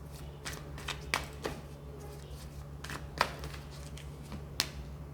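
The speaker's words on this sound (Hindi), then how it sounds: "let's pull some more cards" Tarot cards are shuffled and pulled from the deck, giving soft close riffles, flicks and sharp taps at irregular intervals over a low steady hum.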